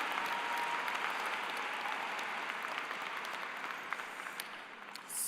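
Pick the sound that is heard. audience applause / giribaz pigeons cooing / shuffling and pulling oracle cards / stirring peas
audience applause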